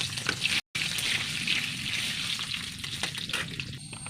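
Garlic sizzles in hot oil in a kadai wok, a dense, continuous close-up frying hiss that holds steady for a few seconds with no talking.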